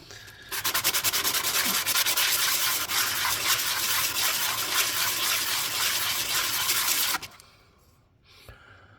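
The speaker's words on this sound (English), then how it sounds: "This is just very, very, very fine sandpaper." Very fine sandpaper rubbing steadily on a ring made from a 1973 Barbados dollar coin, a loud, dense, continuous scratchy hiss that holds for about seven seconds, then cuts off to near quiet.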